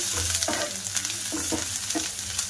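Chopped ginger and green chillies fry in hot oil while a spatula stirs them, giving a steady close sizzle broken by soft rhythmic scrapes.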